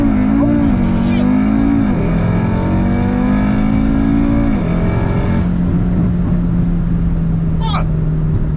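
A modified Audi RS3 pulls hard at full throttle, its engine note droning loud and close as it climbs and shifts in steps, while excited voices shout over it.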